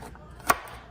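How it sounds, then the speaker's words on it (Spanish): A knife strikes a cutting board once while chopping garlic for green chicken pozole, a single crisp close tap in an otherwise quiet kitchen. "nada más voy a picar un poquito el ajo para ponerlo también ahí en la licuadora"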